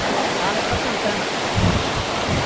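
A large waterfall in a forested area roars as a loud, constant rush of falling water, close by and filling the whole moment, with strong wind buffeting the microphone.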